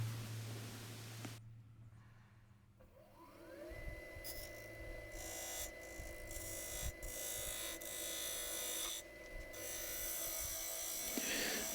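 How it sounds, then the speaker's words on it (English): A 3/8 spindle gouge cutting wood on a lathe while a goblet is turned: a quiet, steady motor whine with a soft scraping hiss of the cut, heard alone without talk. "I've switched to a 3/8 spindle gouge here, and I'm starting to refine the shape"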